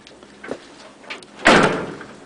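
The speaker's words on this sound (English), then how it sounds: "Doors don't even close because the cab mounts in the back are gone." The door of a rotted 1962 Willys truck, whose rear cab mounts are gone, is pushed shut with a short, hollow thud after faint rustling and light knocks beforehand.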